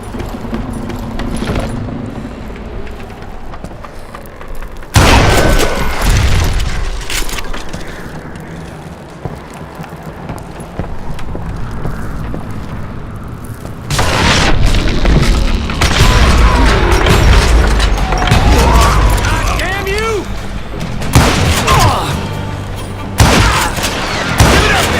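Loud dynamite blasts and gunfire in the Western shooter game Call of Juarez: Gunslinger, with heavy booms and crashing debris that come in dense, sustained waves and a sharp burst of explosions near the middle.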